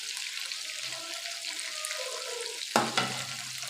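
Chicken wings frying on low heat in oil for KFC-style wings, a steady soft hiss and crackle throughout, with a couple of sharper clatters near the end, no voices.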